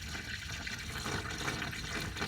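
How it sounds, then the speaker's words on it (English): Pre-diluted antifreeze gurgles and splashes in a steady stream while being poured into the cooling system of a 1999 Infiniti QX4 during timing belt and water pump work, with no voices over it. "Alright, when I'm done adding the antifreeze, I'll get right back to you."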